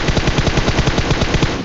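Rapid automatic gunfire from PUBG Mobile, a loud, steady burst of evenly spaced shots filling nearly two seconds with no pauses.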